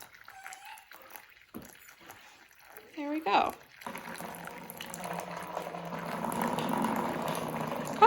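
Water pours steadily into a sink, a continuous splashing rush that builds and holds for several seconds after a few spoken words.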